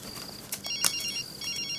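A telephone rings with bright, repeating electronic bell tones, loud and close, alone without talk, in a Tamil film scene.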